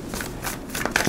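A tarot deck is shuffled by hand, giving a short run of soft, close shuffling and slapping card sounds with no voice over it.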